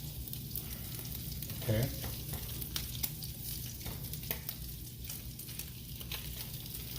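Bacon fries in a pan with a steady, moderate sizzle and occasional pops and faint scrapes, and a voice briefly speaks over it.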